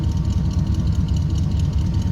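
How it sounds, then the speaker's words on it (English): A 1970 Chevrolet C10 with a 455 engine rumbles steadily through its side dump exhaust, a close, continuous low growl that holds even throughout with no voices. "Nice little rumble coming out of that 455."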